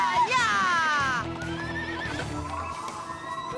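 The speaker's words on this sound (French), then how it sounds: "Mes chevaux!" Horses neigh loudly with shrill whinnies, followed by hoof clatter and rumbling movement, with people's voices mixed in among the animal sounds.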